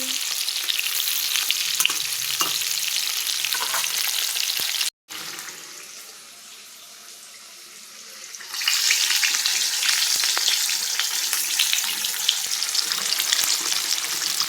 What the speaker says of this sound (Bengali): এই যে বেগুন আর পটল যে ভাজতে দিলাম তো হয়ে এসছে।